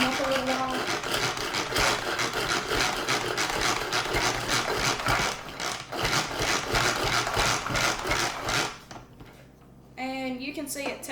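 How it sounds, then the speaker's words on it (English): Manual food processor chopping onions for salsa, a rapid rhythmic rattling whir that runs continuously for several seconds before stopping, with a short voice snippet near the end. "So I'll put them in my manual food processor, and you can use any processor like this one."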